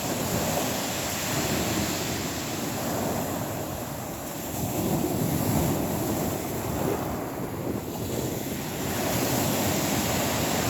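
Steady ocean surf rolls and washes along a beach during a night camping trip, a constant broad roar mixed with wind buffeting the microphone, with no voices over it.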